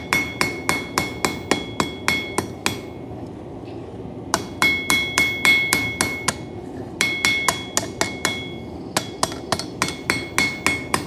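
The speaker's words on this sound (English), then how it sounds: "switching over to my 2-pound hammer because I don't need heavy blows" A 2-pound hammer strikes a coil spring steel knife blade on an anvil in a steady rhythm of sharp, ringing metallic blows, delivered in four bursts of roughly ten strikes each with brief pauses between.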